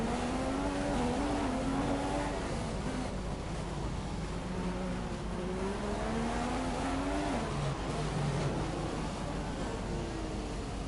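A Formula One race car engine in the F1 2015 video game revs continuously at high pitch, its tone rising and falling through gear changes, loud and steady throughout with no talk.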